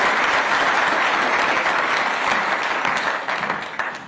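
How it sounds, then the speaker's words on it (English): Summit audience giving panelists a round of applause, a loud dense burst of many hands that holds steady and then begins to thin and taper toward the end. "please let's give our panelists this morning a round of applause"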